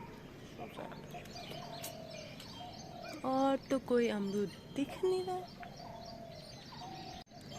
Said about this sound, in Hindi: सुबह सुबह चिड़ियों की आवाज़ कितनी अच्छी लगती है ना, बहुत ही प्यारी।